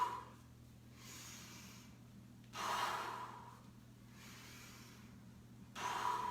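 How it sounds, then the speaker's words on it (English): Slow, steady breaths during a squat warm-up, with three long airy exhales spaced a few seconds apart, close and fairly soft against a quiet background hum. "exhale."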